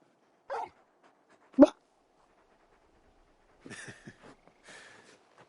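Torgal, a large wolfhound companion in Final Fantasy 16, gives a few brief whimpering yips, followed by a short patter of soft sniffing or eating sounds, quiet and close in an otherwise still scene.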